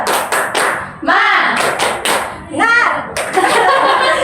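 Schoolchildren in a classroom perform the 'tepuk semangat' clapping chant, sharp group claps and slaps in a quick rhythmic pattern with shouted chanting voices between the claps, close and loud.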